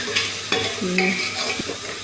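Chopped onion tempering for an aloo baingan (potato and eggplant) curry sizzles steadily in a pan as a utensil stirs it, with a few scraping clinks over the continuous frying hiss, close up.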